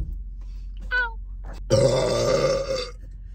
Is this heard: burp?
yes